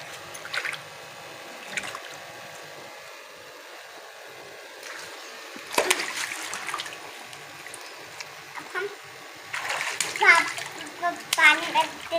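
Children play in a backyard pool, with bursts of jumping and splashing water, droplets and dribbles between them, while kids talk and shout excitedly throughout.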